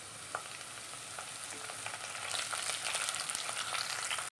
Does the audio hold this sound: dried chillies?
yes